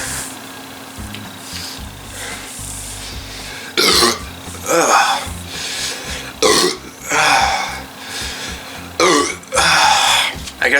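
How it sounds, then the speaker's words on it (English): Several loud, gassy burps after chugging a carbonated Coca-Cola, coming in close bursts separated by short pauses, with a steady background hum underneath. "I guess those burps should really help me out here"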